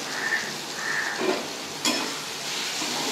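Chhena and vegetables fry with cumin powder and Kashmiri chilli powder in a pan, giving a steady soft sizzle with a brief stirring scrape partway through, close and moderately quiet, with no talking.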